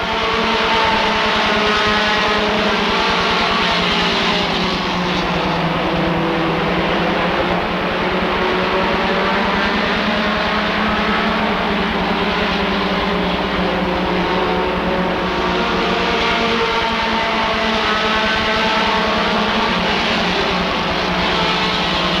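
Stock cars racing at Rockford Speedway after the green flag, a dense roar of many engines blending into a steady loud wash that swells and fades slightly as the pack circulates, with no talk.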